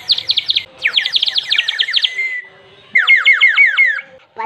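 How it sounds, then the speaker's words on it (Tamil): A handmade clay bird whistle is blown quickly, giving bright, sparrow-like chirping trills in three close, loud bursts separated by short pauses. "எவ்வளவு அழகா நிறைய குருவி சத்தம் போடுற மாதிரி இருக்கு பாத்தீங்களா"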